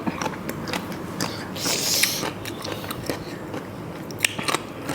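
Crunchy bullet jellyfish with seafood dipping sauce being bitten and chewed up close, a run of crisp crackling crunches at an uneven pace over a noisy background, no clear talking.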